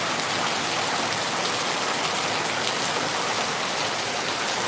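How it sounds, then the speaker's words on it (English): Steady, dense downpour of heavy rain hissing continuously, close and loud, with no voices or breaks. "it's raining"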